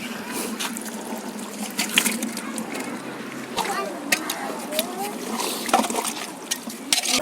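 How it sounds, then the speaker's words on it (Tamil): Cleaned duck pieces go into boiling biryani masala in a pot over a wood-fired stove, giving wet splashes and sloshing over a continuous bubbling, with scattered sharper clatters. "இப்போ நம்ம வாத்து க்ளீன் பண்ணி வச்சுருக்கிறது இதில் போட்டுடலாம்"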